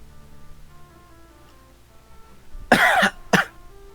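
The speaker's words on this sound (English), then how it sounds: "Cough." Two sharp coughs burst out close and loud near the end, the first harsher and longer, the second short, after a stretch of quiet low hum.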